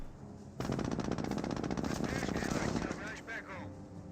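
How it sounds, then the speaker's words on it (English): A sustained burst of MG-42 machine gun fire in the strategy game Company of Heroes, a rapid, even stream of shots starting abruptly and running about two and a half seconds, followed by trailing battle noise and brief voice-like sounds. "Does get suppressed by the MG-42."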